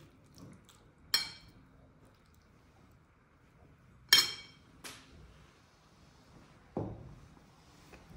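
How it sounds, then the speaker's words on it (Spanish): Salad dressed with olive oil is tossed in a salad bowl, with a few sparse, faint clinks of utensils against the bowl and soft rustling between them in a quiet room. "Y aquí en la ensaladera lo vamos moviendo todo bien."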